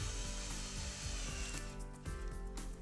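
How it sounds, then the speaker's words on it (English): A power screwdriver drives 2-inch number 10 screws through pilot holes, fixing skirting support blocks to timber stud work, with a steady close-up whirring and grinding that continues without talk. "Now we screw and fix pilot holes and 2-inch 10s through to our stud work."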